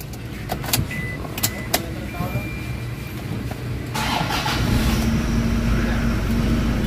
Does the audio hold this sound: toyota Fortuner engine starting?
yes